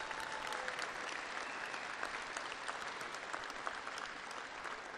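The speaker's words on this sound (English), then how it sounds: "Give them a nice round of applause." An audience at a hockey hall of fame induction ceremony claps for the 2013 inductees, a dense, sustained round of applause heard at a moderate distance and unbroken for the whole stretch.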